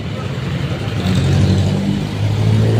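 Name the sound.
Yamaha 650cc motorcycle engine revving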